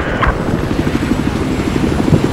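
A helicopter in a military shooter video game on the Lancang Dam map gives off a loud, steady rotor thump with a rhythmic chop and engine hum throughout.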